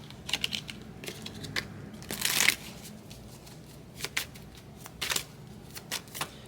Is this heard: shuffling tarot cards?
yes